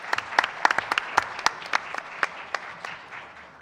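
Applause from the audience at a school board of trustees meeting in Franklin, a modest, scattered round of claps with a few sharper hand strikes standing out, fairly distant and without talk.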